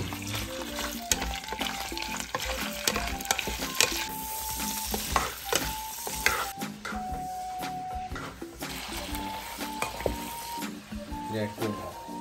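Shrimp stir-frying in oil in a pan for a Thai scrambled egg and shrimp dish, with steady sizzling, scraping and stirring clatter throughout, close and moderately loud, with a voice talking over it.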